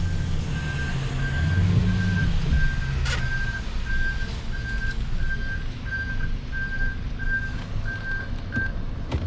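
A salt-spreading plow truck backing up on a snowy lot, its backup alarm beeping in an even, rapid series of about fifteen pulses over a low diesel rumble.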